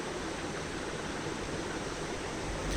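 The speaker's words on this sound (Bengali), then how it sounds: "এখানে হলুদের গুঁড়ো দিয়ে একটু ভালোভাবে নেড়ে চেড়ে নিলাম" Turmeric powder and spices stirred and frying in a hot pan, giving a steady, dense sizzling hiss that runs unbroken at close range with no voices.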